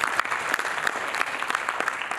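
A steady burst of audience applause fills a marketers' evening event in Nairobi, dense and even throughout its short span, with no voices standing out.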